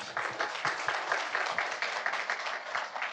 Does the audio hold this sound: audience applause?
yes